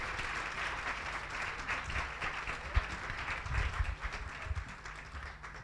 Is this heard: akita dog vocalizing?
no